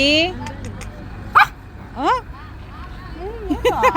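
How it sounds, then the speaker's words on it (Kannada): A dog barks and yelps in short bursts while people talk nearby, with a loud sharp bark near the middle and whimpering calls mixed among the voices. "ನಾಯಿ ನೋಡು"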